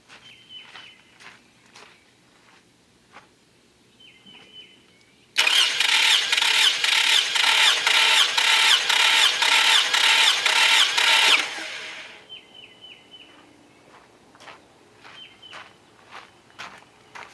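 A high-mileage Toyota Camry with about 320,000 miles cranks over loudly for roughly six seconds in a steady, even churn, with faint clicks and light tapping before and after.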